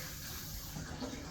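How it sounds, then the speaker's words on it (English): Water is poured onto cooked noodles for beef stroganoff, a steady hissing splash lasting the whole moment, close and even. "Just add some water back to them."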